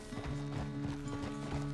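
A horse in Red Dead Redemption 2 clip-clops along in a steady rhythm of hoof falls over a low sustained tone. A faint whinny may sit underneath and there is no talk.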